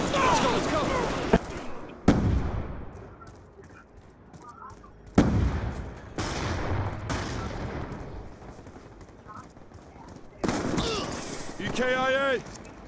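Shotgun blasts in Call of Duty Black Ops 2 multiplayer team deathmatch on the Cargo map: a few loud, sharp booms spaced seconds apart, with quieter game noise and chatter between them.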